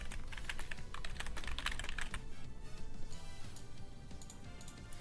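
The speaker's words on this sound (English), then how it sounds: "Sorry if the typing is annoying" Steady typing on a computer keyboard, close and fairly quiet, with a continuous patter of key clicks over five seconds and no speech.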